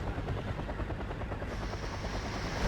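A Mi-24 attack helicopter in the Cold War strategy game Wargame: Red Dragon gives a steady, dense rotor chop with a heavy turbine drone, loud and continuous with no voices.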